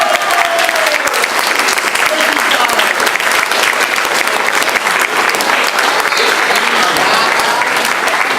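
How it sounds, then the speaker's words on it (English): Loud, sustained audience applause after a murder-mystery show, a thick continuous roar of clapping from a large crowd that stays full and even from start to finish. "Give us a hand, folks."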